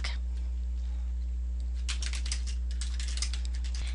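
Quick keystrokes on a computer keyboard as an email subject line is typed, starting after a quiet pause and continuing in close, uneven bursts of light clicks against a steady low hum.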